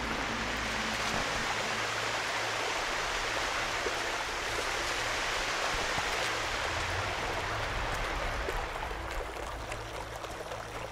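Rushing waterfall in the video game The Witcher 2, a steady dense roar of falling water heard alone throughout, with a low hum beneath.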